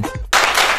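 Sudden burst of audience applause from a crowd at a political gathering, dense broadband clapping that erupts after a brief silence and holds steady and loud to the end.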